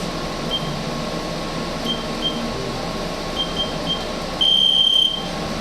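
A workout interval timer starts with a few faint, short electronic chirps, then one longer, louder beep near the end, all over a steady fan or air-conditioning hum.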